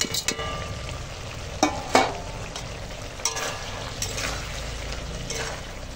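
Fried lentil bori being stirred into a bitter gourd curry in a pan: a steady low bubbling sizzle, broken by several sharp scraping knocks of the spoon against the pan.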